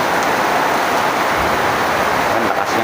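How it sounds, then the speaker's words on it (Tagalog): Heavy rain pours down steadily, a dense, loud, unbroken hiss with no voices heard. "inabot na naman tayo ng ulan."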